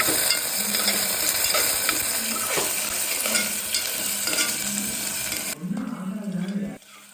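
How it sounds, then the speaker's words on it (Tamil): Finely diced potato fries in oil with mustard seeds and curry leaves, a dense continuous sizzle close by with repeated spatula stirring scrapes, easing off near the end. "உருளைக்கிழங்கு நல்லா ஃப்ரை ஆகணும்."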